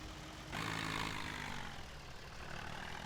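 A tractor engine in Farming Simulator 17 idles with a low steady drone, swelling louder after a moment and holding a constant hum with no voices.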